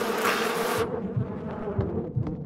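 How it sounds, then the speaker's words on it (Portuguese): Wasps in the video game Far Cry 5 buzzing loudly and close, a dense droning swarm that drops to a lower, steadier hum after a moment. "Nossa, as vespas vão me matar"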